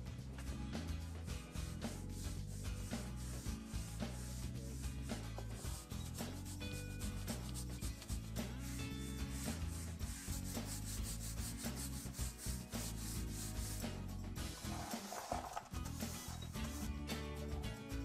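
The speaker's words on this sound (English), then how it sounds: "Now that the dry scrubbing is complete, I can move on to the wet scrubbing." A dry scraper scrubs the inside of a fireplace box, making continuous rough rubbing and scraping strokes in a steady rhythm that are faint but constant throughout, with no speech.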